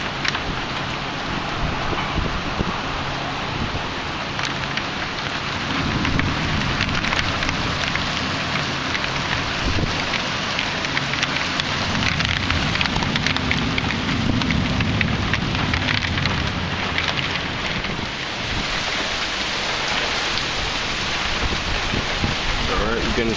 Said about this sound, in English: Alright, we're getting some nice winds right here.